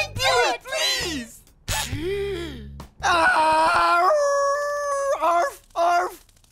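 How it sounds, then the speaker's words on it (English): A cartoon watchdog gives a series of whining, yelping howls and whimpers, some short and sliding, one long and drawn out, close and loud with brief gaps between them. "Please bark, pretty please, make those horrible burglars go away"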